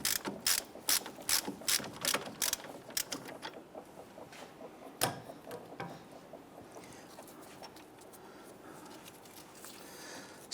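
A ratchet wrench clicks in quick bursts as the last bolt comes off the front hub of a 1999-2004 Jeep Grand Cherokee. The clicking is close, then thins into quieter mechanical ticks and a single knock.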